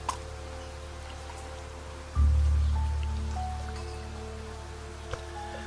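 Rain falling in the video game Niche, a steady soft patter alone at moderate level, joined midway by a low rumbling swell that slowly fades, with a couple of small clicks.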